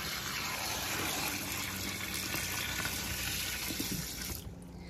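Water pours steadily into a mini portable washing machine, a continuous close gushing splash that holds even and then cuts off abruptly near the end.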